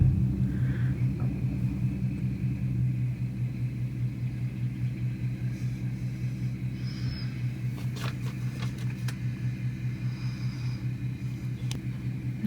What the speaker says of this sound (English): They're just going to drop the trailer, it looks like.